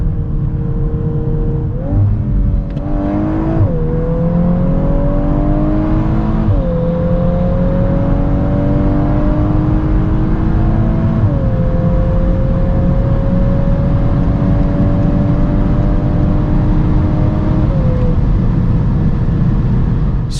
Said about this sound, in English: So let's now see how fast the Golf R goes